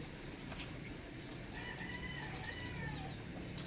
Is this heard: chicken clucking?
yes